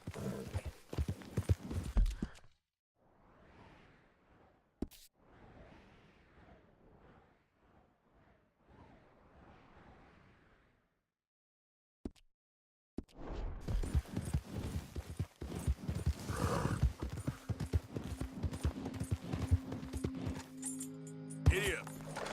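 Horse hooves clip-clop steadily in a Red Dead Redemption 2 ride, loud and close at the start, then dropping away during a quiet stretch before galloping hooves return over busier game sound, with a voice talking briefly.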